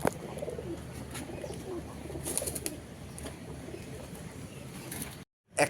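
Pigeons coo softly in a quiet room, including a male black checker Mundian pigeon, low throaty calls under faint background noise, ending with a brief silence and a small bump.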